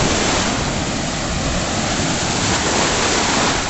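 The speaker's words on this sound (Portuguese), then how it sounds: "Parece que tá bem violento mesmo, tá bem forte a água, as ondas." Strong, violent ocean waves at Barra do Jucu beach in Brazil, heard as a dense, unbroken roar of surf and rushing water. The sound is loud and close and carries no voices.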